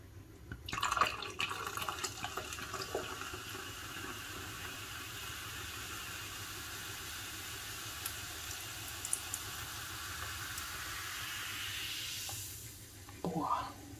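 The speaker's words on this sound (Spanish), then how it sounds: "Y por último, pues le vamos a agregar el cava." Cava is poured into an Agua de Valencia drink, giving a steady fizzing, bubbling hiss that runs for several seconds before fading out, with a brief clink and quiet handling noises at the start and end.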